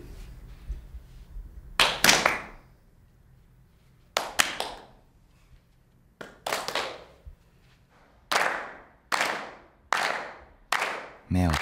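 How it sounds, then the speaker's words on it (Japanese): In an acting workshop, a group of young actors with eyes closed clap together: scattered early bursts give way to sharp, unified claps at a steady beat, each a loud crack separated by quiet pauses. "目を閉じ大勢で一緒に手拍子をすると必ずあるリズムを刻むのだという"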